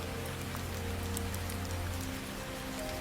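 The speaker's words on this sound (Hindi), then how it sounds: "रामू बारिश में भीगते हुए वैद्य हरिया के पास पहुंचता है।" Steady, even rain pours down in a storm, a dense continuous hiss of drops hitting surfaces close by with a low rumble beneath and no voices.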